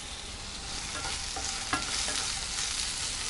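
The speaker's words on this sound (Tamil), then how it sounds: "பீர்க்கங்காயை நல்லா வதக்கிக்கலாம்." Chopped ridge gourd sautéing in hot oil in a pan for chutney, with a steady close sizzle and a few faint scrapes of stirring, one slightly sharper knock near the middle, and no voices.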